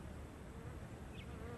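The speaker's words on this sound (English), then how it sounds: "there's definitely a wasp in here" A steady wasp buzz drones throughout indoors, close and continuous, with a brief higher whine near the end; no voices.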